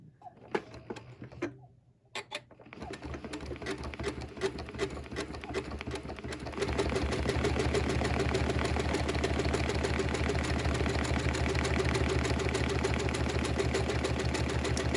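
A Janome M7 sewing machine stitches a variable zigzag, starting with a few slow stitches and then running fast and steady in a dense, continuous mechanical rattle.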